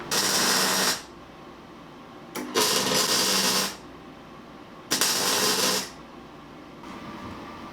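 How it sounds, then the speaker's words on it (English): Stitch welding on a Land Rover Series 3 panel during a full restoration produces three loud, close bursts of crackling arc buzz, each lasting about a second, with quiet pauses between them. "it's going to make it a lot slower to weld this up because I'm having to stitch weld it rather than do a continual run"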